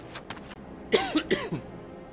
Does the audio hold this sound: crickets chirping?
no